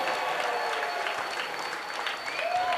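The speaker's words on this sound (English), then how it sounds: "one more round of applause for a great first fight of the evening." A crowd at a fight event applauds continuously, dense clapping filling the space throughout with a loud, even roar.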